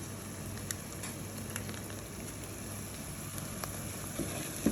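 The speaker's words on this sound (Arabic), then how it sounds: "بديها تشويحه بقى معاها كده" Vegetables sautéing in a pan with tomato paste while preparing mahshi stuffed vegetables, a steady soft sizzle and crackle running throughout with occasional faint clicks, no talking.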